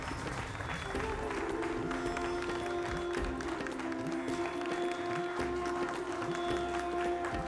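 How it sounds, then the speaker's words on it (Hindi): Studio audience applause welcoming guests on a Hindi television debate show, steady dense clapping throughout with a sustained tonal hum and some voices mixed underneath. "जोरदार तालियों से अभिनंदन करिए"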